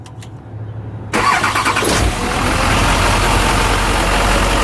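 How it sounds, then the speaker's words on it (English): A Hummer H1 Alpha with a 2006 Duramax diesel cranks briefly, catches with a loud burst, then settles into a steady, close diesel idle without any talking. "go ahead and fire it up"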